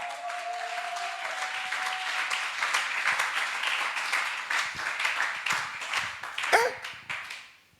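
Church congregation applauding and cheering for Jesus: a sustained wash of clapping with scattered cheers and a voice or two, rising in bursts and fading out at the end.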